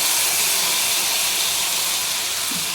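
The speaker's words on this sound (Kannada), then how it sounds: "ಈಗ ಫ್ರೈ ಮಾಡ್ಕೊಂಡಂಥ ಡ್ರೈ ಫ್ರೂಟ್ಸ್ ಎಲ್ಲ ಅದ್ರೊಳಗೆ ಹಾಕೊಂಬಿಡನ್ರಿ" Fried dry fruits hit hot ghee and set off a loud, steady sizzle that hisses without a break from start to finish, close up with no voices.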